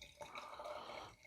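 Beer, a fruited milkshake double IPA made with lemon, poured into a glass, giving a soft steady splashing gurgle, quiet and close, with no talk.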